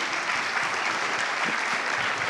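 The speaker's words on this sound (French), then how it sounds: "Vous pouvez les applaudir." Loud, dense applause from a conference audience fills the room at the close of a morning session, a continuous uniform patter with no talk over it.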